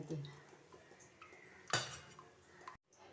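A utensil briefly clatters against a bowl while a yogurt and turmeric mixture is whisked for chingri vapa, a Bengali steamed shrimp dish. The scrapes and clinks are soft, with one sharper burst of clatter before a sudden cutoff.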